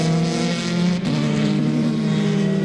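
Formula 3 race cars from the 2008 season at Curitiba roar past in a steady, loud engine drone whose pitch dips and climbs as the cars jostle for position.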